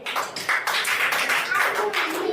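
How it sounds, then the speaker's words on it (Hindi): Students in a classroom applaud together, a quick burst of rapid, fairly close clapping that lasts a couple of seconds. "ताली बजाओ इसके लिए।"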